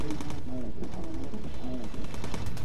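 A bomber turret in the video game Bomber Crew fires a rapid, continuous burst of gunfire. Loud rattling runs throughout with tonal game sounds and a faint voice underneath.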